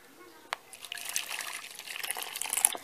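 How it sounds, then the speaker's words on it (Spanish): Hot water poured into a bowl for a chocolate cupcake batter, a soft trickle building into a steady splashing stream, close and fairly quiet. "en un recipiente, vamos a poner agua caliente"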